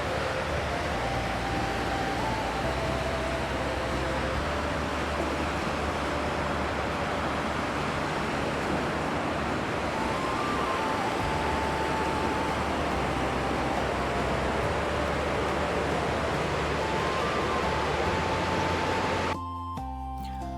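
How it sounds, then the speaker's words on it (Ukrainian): Probiy waterfall, the fullest-flowing falls in the Carpathians near Yaremche in winter, rushes with a dense, steady roar that fills the whole span, loud and unbroken until it cuts off near the end. "А ось і сам водоспад Пробій, найповноводніший в Карпатах."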